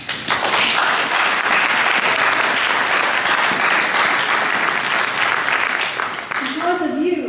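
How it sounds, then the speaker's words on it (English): An audience at a community meeting applauds, a loud, dense and sustained roar of clapping from a full room that holds steady for several seconds before fading as a voice begins speaking. "I'd like to ask all of you to give yourselves a big round of applause"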